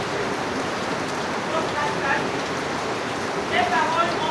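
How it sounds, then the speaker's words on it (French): Steady rain falls throughout at a moderate, even level, a dense continuous patter with no clear breaks, heard indoors during a Bible study gathering. "Faut pas oublier qu'il y a la pluie."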